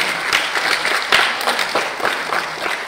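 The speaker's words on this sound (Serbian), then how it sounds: "Još jedan aplauz za Stasiju." An audience applauds steadily, many hands clapping in a dense, continuous patter that fills the room without voices on top.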